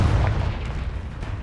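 A heavy fire-spell blast, Confringo, in Hogwarts Legacy, a deep booming explosion with rumbling low end that carries through the whole short moment, loud and close.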